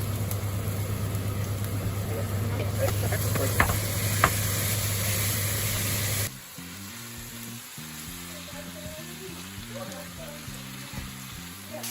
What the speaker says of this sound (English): Right now we're going to add the cumin and mince.